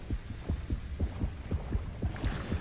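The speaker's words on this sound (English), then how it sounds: "What is that heartbeat?" A steady, throbbing heartbeat pulses from the shark game Depth, low thumps in a quick, regular rhythm over a faint hum, with no talking.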